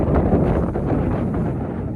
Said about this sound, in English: That wind, I'm sorry guys if it's too windy